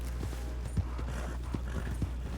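Horse hooves clip-clop at a steady trot in Red Dead Redemption 2, soft and fairly faint over a low rumbling game background.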